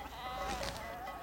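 A flock of ewes bleats on alpine pasture slopes after arriving from the dry plain of La Crau, steady overlapping calls at moderate distance for just over a second.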